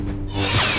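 A Star Wars: The Clone Wars lightsaber effect, a brief, bright electric hum that swells and sweeps upward in less than a second.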